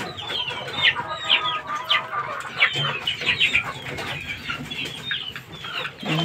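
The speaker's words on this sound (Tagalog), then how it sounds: "Magandang klase po itong bulik guys." Bulik rooster and chickens cluck and call close by in a farmyard, a run of short repeated clucks and squawks with some rustling and wing movement, no voices.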